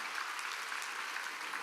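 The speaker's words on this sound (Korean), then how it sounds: "박수야." A church congregation claps together during an evening revival service at a summer mountain gathering, producing a dense, steady patter of many hands throughout with no break or talk.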